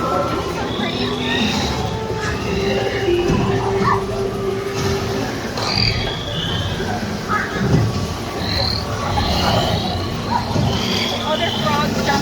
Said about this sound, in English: Oh, there's frogs jumping from the lily pad.